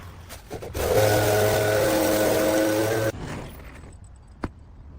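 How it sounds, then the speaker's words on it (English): A leaf blower's loud, steady motor drone with a constant buzzing hum runs for about two seconds in an overgrown yard, then cuts off, leaving quieter clatter and one sharp click. "I'm just going to get the leaf blower out"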